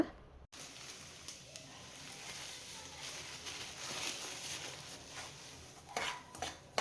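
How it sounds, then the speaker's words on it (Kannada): A spoon scrapes and clinks against a pan as semolina roasts in ghee, soft steady stirring with occasional sharper metallic taps, faint and close. "ನೋಡಿ ತುಪ್ಪದಲ್ಲಿ ರವೆನ ಹುರ್ಕೊತಾ ಇದ್ದೀನಿ ಈಗ"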